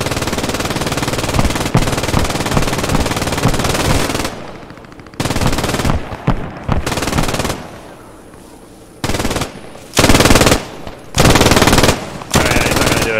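Video game gunfire comes as dense, loud bursts of rapid automatic shots, then breaks into short separated volleys with quiet gaps between them.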